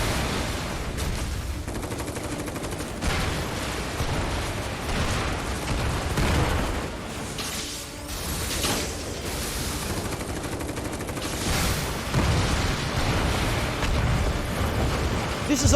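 In Final Fantasy VII Remake, a reactor explosion erupts in a dense barrage of booms, blasts and rattling gunfire-like bursts, loud and continuous for about sixteen seconds.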